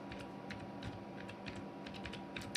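Light typing on a computer keyboard, a quick irregular run of soft key clicks, close and quiet, with no voice over it.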